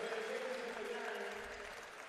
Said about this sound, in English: crowd give him a round of applause